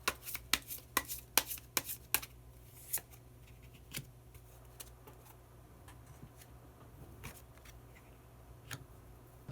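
A card is drawn from a tarot-style deck with a quick flurry of crisp shuffling snaps and flicks, then a few isolated soft taps and slides spaced out, all quiet and close.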